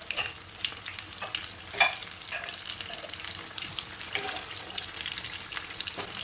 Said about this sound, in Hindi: ये देखिए अब मैं ये ऑयल मैं इसको फ्राई करूँ।